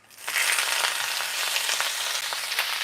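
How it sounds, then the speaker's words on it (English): Spinach hits hot oil in a pan and sizzles loudly right away, a bright, close crackle that holds steady with a few sharper pops and no talking. "It should sizzle as we plop it in there."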